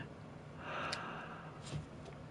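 Slow, breathy inhaling and exhaling in a dim underground bunker in a video game, faint and eerie, with two or three soft swells of breath over a quiet background.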